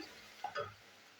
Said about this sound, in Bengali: দেখুন বন্ধুরা, পেঁয়াজ ভাজা হচ্ছে।